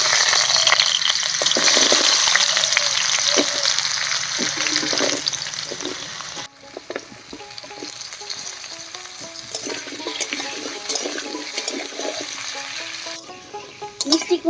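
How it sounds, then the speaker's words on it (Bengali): Mixed vegetables such as pumpkin, carrot, squash and potato hit hot oil left from frying peanuts, a loud dense sizzle that drops sharply partway, then continues softer with stirring scrapes. "এবার এই তেলেই সবজিগুলো ভেজে নেব।"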